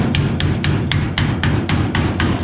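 Metal hammered down on a cowl repair in a garage: about ten steady, evenly spaced ringing hammer blows, loud and close, over a constant low background hum.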